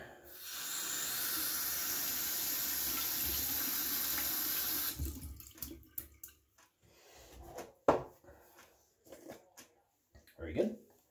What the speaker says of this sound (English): So take my brush here, run under some hot water, or warm water.